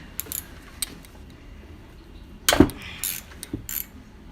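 Ratchet tightening oily sump gasket bolts on a Tecumseh engine, a few short clicking bursts separated by pauses and one louder cluster of rapid clicks and clatter, close by, no voices.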